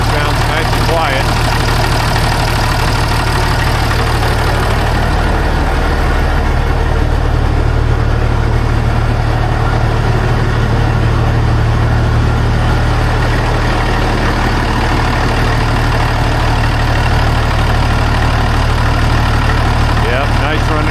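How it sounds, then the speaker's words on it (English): A Minneapolis-Moline diesel tractor engine idles steadily on cold oil, with a loud, constant low rumble that carries unbroken throughout, while people talk faintly underneath. "Even for cold oil, the motor sounds nice and quiet."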